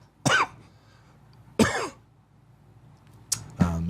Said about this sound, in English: When he coughs like that